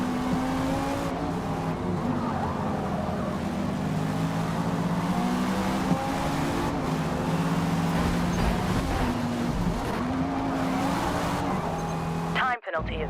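An Audi race car in the Forza racing game, its engine droning steadily and loudly throughout with rising and falling revs, a brief cut near the end and talk over it.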